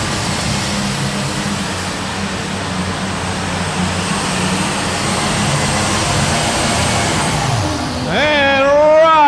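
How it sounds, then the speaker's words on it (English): A John Deere 4010 tractor at a super stock tractor pull, a loud sustained engine roar with crowd and arena noise that builds toward the end into a rising, whining rev. "Here comes that John Deere 4010 on the starting line."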